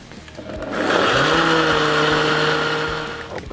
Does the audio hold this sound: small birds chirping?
no